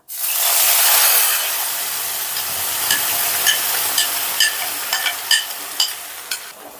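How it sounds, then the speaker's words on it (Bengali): A spoon scrapes and stirs tomato paste through tempering spices in a hot pan, the sizzle loud at first and then settling beneath a run of sharp, rhythmic clacks and scrapes against the metal. "ফোড়নটা একটু নাড়াচাড়া করে দিয়ে দিচ্ছি আমি"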